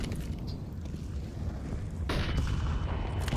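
Grenade blast in a Counter-Strike match, a deep low rumble rolling along and then a sharper burst with bright crackling debris, followed by another hit near the end, with no talking.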